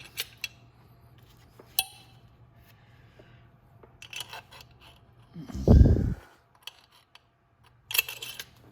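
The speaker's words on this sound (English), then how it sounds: "I want to put my two big long 8mm bolts in there that hold everything together" Two long 8mm bolts going into the head of a GY6 200cc scooter engine during a top-end rebuild: scattered metallic clicks and clinks of bolts and small tools, with a louder rattling handling burst near the middle.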